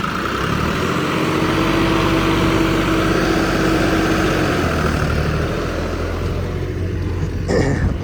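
A John Deere 5405 turbo tractor engine runs at high RPM, a loud steady diesel drone with a sustained low rumble and a faint tonal whine, continuous throughout.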